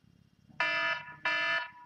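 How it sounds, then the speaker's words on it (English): A kitchen-style countdown timer alarm sounds in two loud, harmonic electronic bursts of roughly two-thirds of a second each, separated by a brief gap, with a faint low murmur underneath. "And that is my timer going off."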